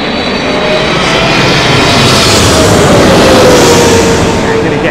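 Boeing 777 airliner from Los Angeles passing low overhead on arrival at Heathrow, a loud, close engine roar with a slowly falling whine that swells toward the end.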